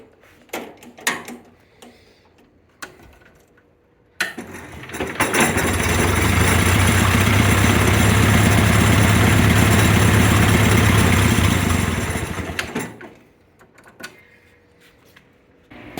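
An International Harvester Cub Lo-Boy tractor engine catches and runs with a steady, loud mechanical drone for about eight seconds before dying away, framed by scattered clicks and knocks.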